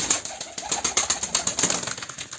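Pigeons flutter and flap their wings in quick, repeated bursts close by, with faint bird calls mixed in.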